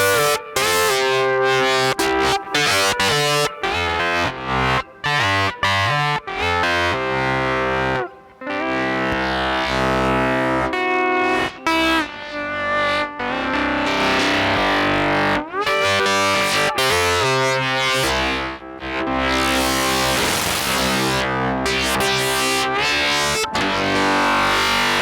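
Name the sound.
wavefolder distortion effect on steel playing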